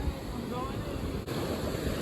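Ocean waves surge and wash against rocks in a cove, a continuous broad roar with wind buffeting the microphone and no distinct individual crashes.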